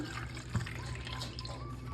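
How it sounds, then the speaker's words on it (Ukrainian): Cold water pours steadily over small cucumbers in a bowl, a soft, close, continuous splashing flow with one brief bump partway through. "Їх гарно промиваємо та заливаємо холодною водою."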